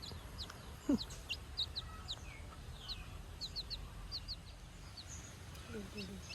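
A newly hatched chick gives faint, high, repeated peeps scattered through quiet room tone, with one brief louder knock near the start.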